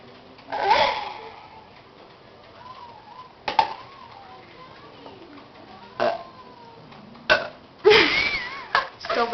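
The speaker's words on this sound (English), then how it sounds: "You call that a burp?" Several loud burps from people in a belching contest, spread across the stretch with a long rumbling belch near the start and a big one near the end, separated by quieter gaps.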